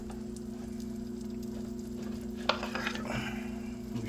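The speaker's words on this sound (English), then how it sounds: "We get a little bit of sizzling." A grilled cheese sandwich sizzles steadily in a pan under a constant low hum, with a brief clatter and scrape midway as the pan or food is shifted, and no talk.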